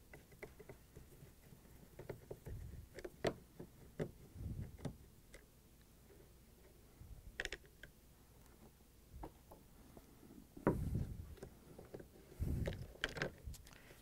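Phillips screws are backed out of an LG/Kenmore refrigerator fan motor, with faint, quiet clicks, ticks and small handling knocks scattered irregularly close by.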